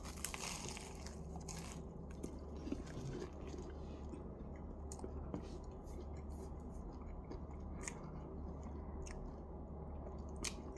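Someone chews a croissant at breakfast, the close, moist crunching and squishing coming in repeated bites against a quiet background.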